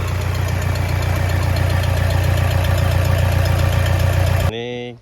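A Toyota Innova with a 2KD diesel engine idles steadily and loudly up close, with a continuous low knocking rumble, before it cuts out abruptly near the end and only a brief fading ring remains.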